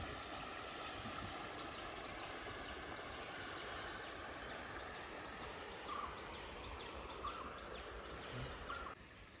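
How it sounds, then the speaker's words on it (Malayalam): A small stream runs past a homestay in Wayanad on a misty morning, making a steady, soft wash of flowing water that carries on throughout, with faint bird calls now and then. "ചെറിയൊരു അരുവി ഇതിലൂടെ ഒഴുകുന്നുണ്ട്"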